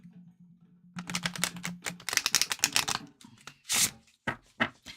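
Tarot cards being shuffled by hand in quick riffling bursts and soft slaps, starting over a low hum and ending in a few separate crisp shuffles.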